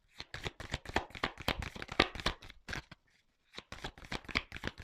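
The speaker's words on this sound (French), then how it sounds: "Oh là là, j'ai trop de cartes qui sautent." Oracle cards being shuffled by hand, a rapid run of crisp riffling slaps that pauses briefly before resuming, close and clear.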